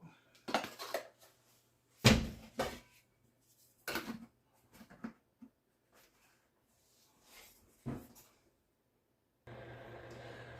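Spoon stirring melted butter in a pot for nut rolls, giving scattered scraping clinks against the metal at irregular intervals, with a steadier sizzle or hiss near the end.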